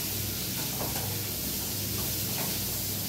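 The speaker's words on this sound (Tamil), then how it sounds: "இதை நல்லா மிக்ஸ் பண்ணிடலாம்." Carrots and beans being stirred in a hot pan for a lunch-box dish, giving a steady soft sizzle with scraping stirs throughout, close and continuous with no talk.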